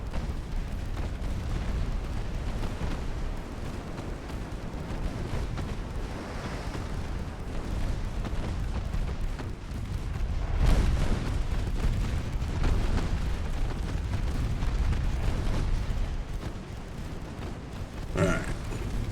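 Distant naval guns firing in Ultimate Admiral Dreadnoughts, heard as deep low booms and rumbling blasts over a steady background roar, with one heavier report near the middle.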